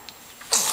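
A single sudden sneeze bursts out near the end, loud and close after a quiet stretch of faint breathy sounds.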